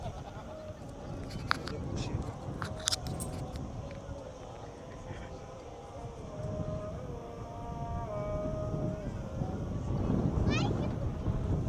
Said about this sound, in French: Il y a beaucoup de vent là où on est